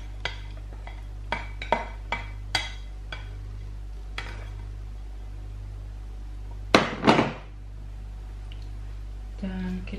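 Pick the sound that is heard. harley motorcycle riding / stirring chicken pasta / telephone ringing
stirring chicken pasta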